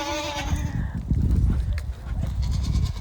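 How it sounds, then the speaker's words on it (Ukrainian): Young goat kids, six to seven months old, bleat loudly and close by, several overlapping cries with rustling and shuffling from the pen. "Це козенята, які ми вивели в цьому році."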